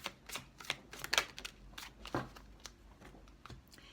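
Oracle cards shuffled and drawn by hand: a quiet series of soft riffling flicks and papery slaps, irregular and close, with brief gaps between bursts.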